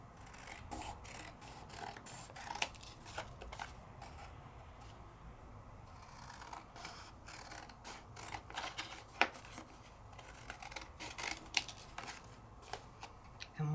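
Scissors cutting paper coated with white embossing powder, a quiet series of irregular snips and scraping rustles up close, with no talking.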